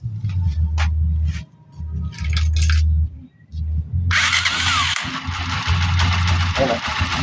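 Motorcycle engine cranking and catching after a push rod replacement and adjustment, a loud broadband roar starting about midway and running steadily to the end, with low rumbling noise before it.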